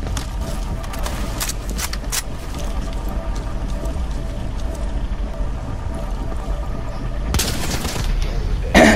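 Gunfire in the tactical shooter Rainbow Six Siege, with a steady wash of game sound through the clip and a sharp burst of shots near the end. No one speaks.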